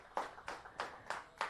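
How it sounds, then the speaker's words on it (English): Five slow, evenly spaced hand claps from the dugout at a T20 cricket match, each one a sharp burst about a third of a second apart, moderately close and heard without talk. "Standing applause from the dugout."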